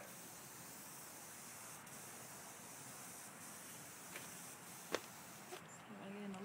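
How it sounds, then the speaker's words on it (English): A steady, even hiss of a handheld paint sprayer coating a metal grill runs throughout, with a few faint clicks and knocks nearby; no clear speech. "he's got a little handheld sprayer."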